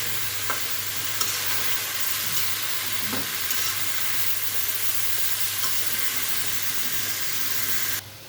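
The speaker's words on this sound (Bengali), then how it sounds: "এখানে আমি ভালো করে এগুলো নেড়ে চেড়ে মশলাগুলো" Cauliflower stems and spices being stirred and fried in a pan: a steady, close sizzle with occasional scraping stir strokes, no talking, ending abruptly.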